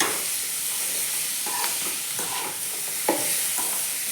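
Food sizzling steadily in a pan, a continuous bright hiss with a few soft stirring scrapes and clicks, close and moderately loud, with no one talking.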